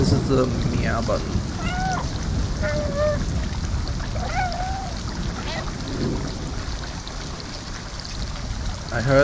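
Several short, high cat meows in the video game Stray, spaced a second or two apart over a rumbling, rainy-sounding background, with a voice talking over them.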